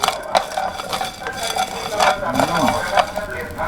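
Spices being stir-fried in a pan before pork goes in, giving a soft sizzle under repeated scraping and clinking of a spatula against the pan, steady and close, with faint voices in the background.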